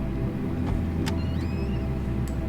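Boarding in Microsoft Flight Simulator's Self Loading Cargo add-on, with a passenger entering a fly-by-wire airliner cabin: a steady low cabin hum carries a few brief mechanical clicks and faint whirring slides, all close and quiet.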